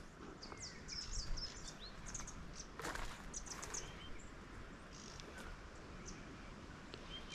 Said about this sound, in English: can hear a lot of weebills at the moment.